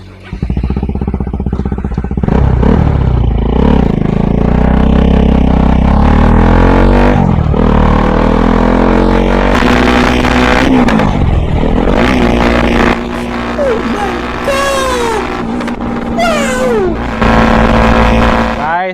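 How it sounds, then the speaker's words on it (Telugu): A Bajaj NS200 motorcycle fitted with an NGK iridium spark plug revs hard, repeatedly climbing and falling in pitch, loud and close; a voice speaks over the engine at times. "ఇప్పుడు బీటింగ్ అయితే వినండి గైస్"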